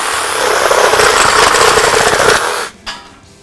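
Bosch GSA 18V-32 cordless reciprocating saw running at about 2,500 strokes per minute, a loud, fast buzzing hammer of the blade that cuts off sharply, followed by a brief knock.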